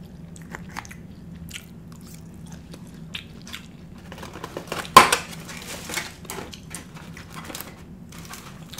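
Thai shrimp being eaten with cutlery: scattered close crunchy bites, soft chewing and light clinks of utensils against dishes over a low steady hum, with one sharper clack about midway.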